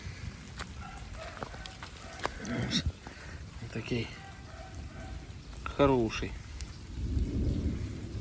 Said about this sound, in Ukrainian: Коротше, отакий у нас був град.